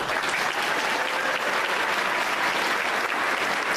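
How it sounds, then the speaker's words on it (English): Graduates are honoured with a steady wash of loud clapping from a ceremony audience, dense and unbroken throughout the moment. "Give them a round of applause."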